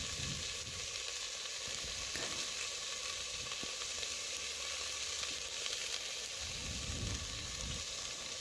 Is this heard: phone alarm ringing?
no